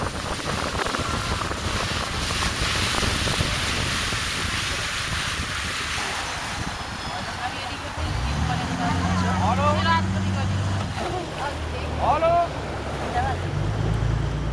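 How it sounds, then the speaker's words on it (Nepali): Waves of the Koshi River splash and rush steadily around a passenger boat, a loud broadband wash with wind, and voices rise over it in the second half. "कस्तो छाल हान्दैछ कोशी नदीले।"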